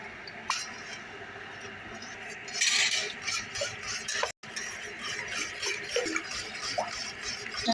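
Eggs, yogurt and water are whisked in a bowl with steady clinking and scraping of utensil against the dish, close and moderately loud, with kitchen background noise.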